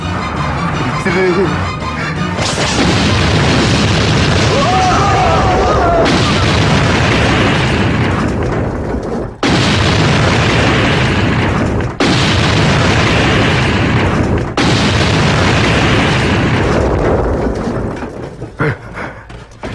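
Firecrackers set off during a rowdy Tamil scene, a string of loud, dense blasts running almost continuously for about twenty seconds with brief gaps, while shouting voices come through near the start.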